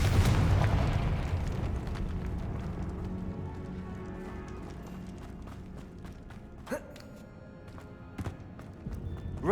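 A Confringo blasting curse explodes in Hogwarts Legacy, with a loud burst up front that settles into a long, decaying rumble broken by a few sharp cracks and clatters.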